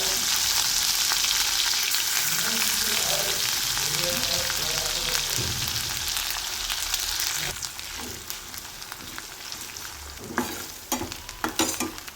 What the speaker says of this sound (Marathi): मिरची लसूण तळून घ्यायचं आहे